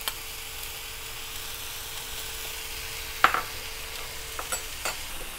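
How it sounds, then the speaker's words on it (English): Shallots and curry leaves sauté in well-heated oil, a steady low sizzle running throughout with a sharp spoon-against-pan clink partway through and a few lighter scrapes and taps near the end. "Now that the oil is well heated, let's give it a good mix. Saute this till it's that onion caramelizes."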